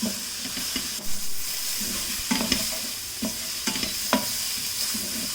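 Vegetables and spice powders stirred together in a hot pan for a kids' spaghetti dish, with a spoon scraping and clinking against the pan over a continuous close sizzle.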